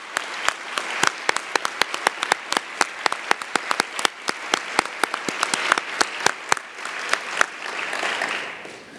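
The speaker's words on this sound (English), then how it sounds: "Please give them a round of applause." A round of applause from the audience at a university spring faculty address, steady clapping from many hands with sharp individual claps standing out over a dense wash, continuing at moderate loudness throughout.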